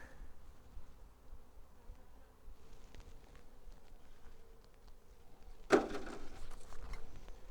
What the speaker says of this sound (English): what I thought would be a colony of bees living in here was actually just robber bees